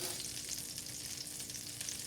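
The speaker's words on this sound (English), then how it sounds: "Show you a quick way on how to make melted butter." Butter melting in a pan gives a faint, steady, even sizzle that holds without break, quiet and close.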